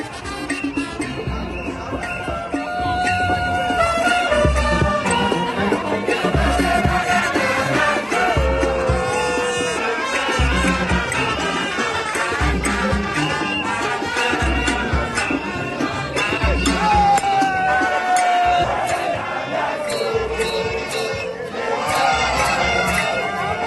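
Crowd noise at the Ankos masquerade street festival in Takoradi, a continuous loud roar of many voices, shouting and cheering mixed with music and drumming, sustained without a break.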